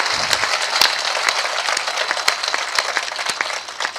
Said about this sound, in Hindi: तो एक बार जोरदार तालियां उठाइए सब लोग जाग के